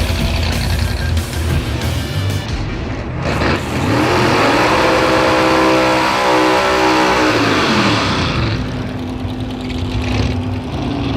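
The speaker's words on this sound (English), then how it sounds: "And here comes Mike Finnegan around the corner in the Blasphemi 1955 Chevy." A 1955 Chevy drag car at a drag racing event revs loudly and accelerates up through its range close by, the engine roaring continuously and then easing off near the end.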